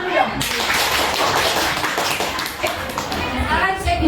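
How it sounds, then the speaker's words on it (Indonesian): Students in a classroom clapping their hands together, a burst of many close claps mixed with chatter and voices throughout. "Tepuk tangan dulu dong."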